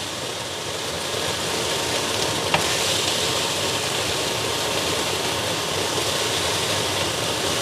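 Pork chops fry in a hot pan for grilled pork chops and eggs breakfast, giving a steady, dense sizzle that stays even and fairly loud throughout, with one brief click partway through.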